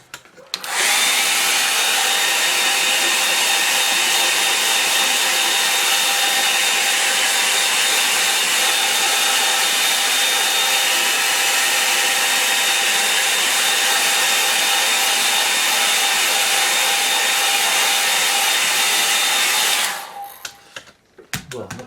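A hair dryer blows steadily on a watercolour painting, a loud, continuous whirring roar with a faint high whine that runs unbroken for about twenty seconds and then cuts off.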